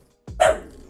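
A dog gives one short, close bark that rises sharply and fades within a second, heard alone indoors.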